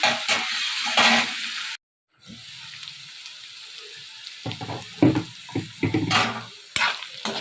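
Brinjal (eggplant) pieces sizzle and fry in a pan while being stirred, a steady crackling hiss broken by scraping stir strokes, with a brief total dropout partway through.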